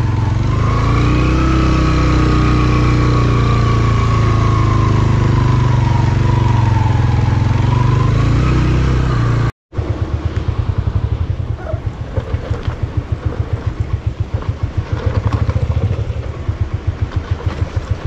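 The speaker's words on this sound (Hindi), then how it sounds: "बाइक पीछे कर रहा हूँ क्योंकि बाइक नहीं चढ़ रहा" A loud motorcycle engine labors and revs close by, struggling up a steep jeep track, droning steadily, cuts out briefly, then returns as a rough, pulsing chug.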